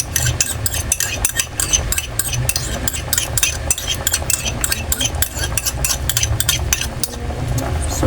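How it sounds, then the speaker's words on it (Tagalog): Steady loud sizzling and crackling as an egg is added to a hot frying pan with fried galunggong fish, with scraping stir sounds and a low background hum throughout. "Lagay na natin itong itlog."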